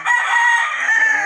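A rooster crows once, loud and close, a drawn-out strained call among farm chickens, heard on its own with no talk.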